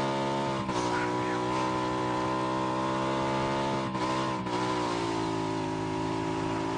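Car engine droning steadily while driving in the game PUBG, fairly faint and continuous with a few brief disturbances.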